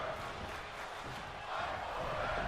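Steady, dense roar of a wrestling arena crowd in the WWE 2K26 video game, a continuous wash of cheering that swells slightly toward the end.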